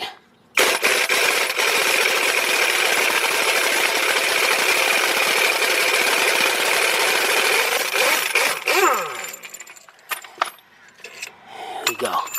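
Pneumatic impact tool spinning off a camshaft bolt during timing chain work on a GM Ecotec engine (Chevy Cobalt, Malibu, Saturn), a loud sustained buzzing burst of about eight seconds, then short rattling taps and quieter workshop noise.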